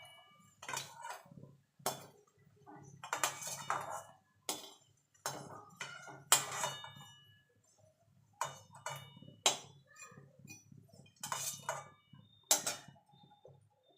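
Fried mustard flower fritters lifted from a pan, giving a run of light clinks and scrapes of utensil against metal, close and fairly quiet, spread irregularly with short pauses between.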